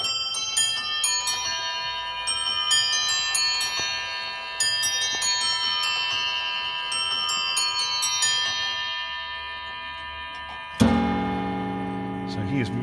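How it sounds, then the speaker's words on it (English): An antique 19th-century exhibition table clock with automata chimes a Cambridge sequence on eight bells, bright bell tones ringing in a steady pattern for about ten seconds before a louder final strike with a long ringing decay. "So it chimes on eight bells or Cambridge chimes."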